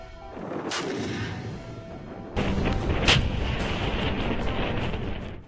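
Altay tank prototype fires its main gun during mobility and firing trials, with a heavy boom followed by a long rumbling roar and a second sharp blast, loud and continuous without speech.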